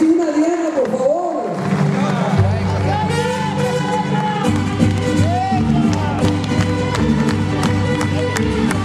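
Theatre audience at an award ceremony honoring Lorenzo de Monteclaro cheers and whoops in a steady crowd roar, with mariachi music playing underneath throughout.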